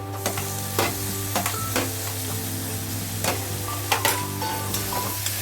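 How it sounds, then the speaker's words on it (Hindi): Masala and tomatoes fry and get stirred in a pan for spicy achari chicken, a steady sizzle broken by repeated scraping strokes of the spoon at a fairly regular pace, close and moderately loud with no talking. "अच्छी तरह सारे चीज़ों को मिला के भून लेते हैं"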